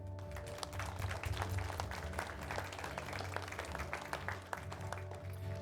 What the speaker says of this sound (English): Can we give a round of applause for these two?